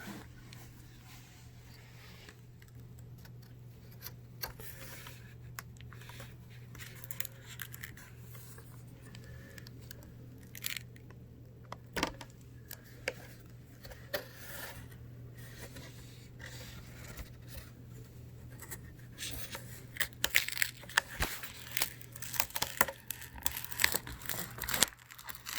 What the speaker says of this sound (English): So what you want to do is pull the bezel off,